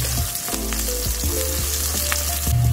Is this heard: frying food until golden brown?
yes